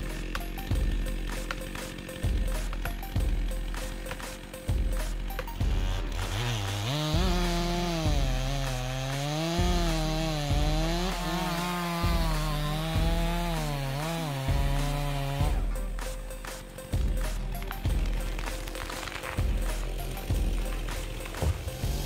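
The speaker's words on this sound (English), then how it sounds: "The portability of chainsaws makes them able to operate anytime, anywhere, creating favorable conditions for logging during such snowy times." A chainsaw cuts wood during snowy-weather logging. A steady rhythmic knocking runs throughout, and a loud, wavering engine whine swells in the middle stretch as the blade bites, then drops back.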